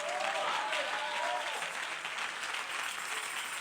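A church congregation at a Sunday sermon applauds and cheers loudly for Jesus Christ, dense clapping with a few rising shouts at the start, sustained and close throughout the short burst.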